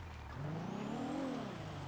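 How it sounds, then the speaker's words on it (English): A motorcycle engine in GTA V roleplay passes with a rising then falling whine, a faint, brief pass heard at a distance. "Oh, I just heard the motorcycle."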